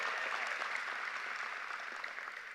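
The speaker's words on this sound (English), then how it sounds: "Give a big applause for Ms. Gwendolyn Taylor" Sustained audience applause at the 2022 Riviera Beach Preparatory and Achievement Academy graduation ceremony, a dense steady wash of clapping from a large crowd filling the whole stretch, tapering slightly at the end.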